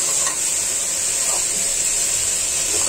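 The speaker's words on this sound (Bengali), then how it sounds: "মাংস কষিয়ে নিচ্ছি ভালো করে।" Meat being browned with green banana and finely chopped potato in a pan for a Bangladeshi mixed vegetable dish gives a steady, close sizzle and hiss with occasional stirring scrapes, with no talking.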